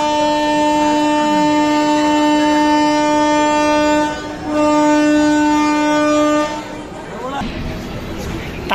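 Nellai Express train departing Tirunelveli Junction, sounding a long steady horn that holds for several seconds with a brief break, then fading into rumbling rail and carriage noise.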